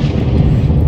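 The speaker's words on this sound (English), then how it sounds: "Whoa, hello, that was a big thunderstorm." Thunder in The Sims 4 booms loud and close, a deep rolling rumble that holds heavy through the whole moment without any voices.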